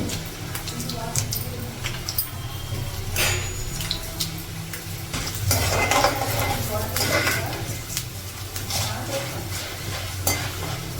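Dried red chilies fry in hot oil with cumin for semiya pulihora, a close crackling sizzle broken by repeated scrapes and clinks of a spoon against the pan, with no voices.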